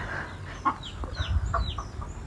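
Chickens cluck in a coop at close range, giving several short calls over a low, steady background noise, with no speech.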